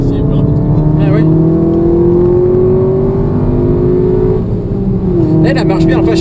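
A Seat Leon Cupra howls at high revs on the Bugatti circuit, a loud continuous engine roar with rising pitch and a brief dip as the car speeds past, while people talk over it.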